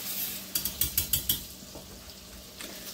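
A teaspoon of garlic cooks quietly in a pan for Swedish meatballs, with a soft sizzle running throughout. A quick run of light clicks, probably a utensil against the pan, breaks through about halfway.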